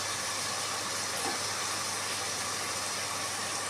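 Onions sizzle in a pan over a fairly high flame for a potato egg curry, giving a steady, soft, even hiss with no other sounds.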